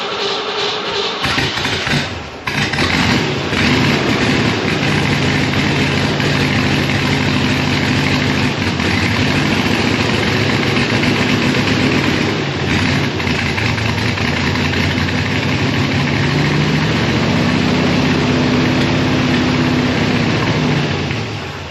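A C2 Corvette with a hot rod motor and side pipes idles loud and close, a steady, lumpy rumble that runs on for the whole stretch, after the car has sat for ten years.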